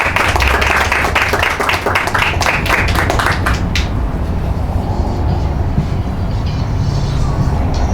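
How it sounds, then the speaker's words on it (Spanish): An audience claps loudly and densely for an author at a book event, then the applause thins out midway and a lower, continuous rumbling noise carries on to the end. "les pido un fuerte aplauso para Ayure"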